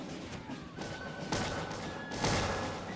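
Troops fire a musket volley in the Bannerlord game's Empires of Europe 1700 mod, heard as two dull, booming bursts about a second apart over a low, rumbling battlefield background.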